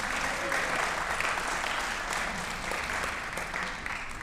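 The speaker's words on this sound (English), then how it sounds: "let's give them all a wave and a cheer" A large audience at a talk on climate and global security applauds steadily for several seconds, a dense, even patter of clapping with some cheering mixed in.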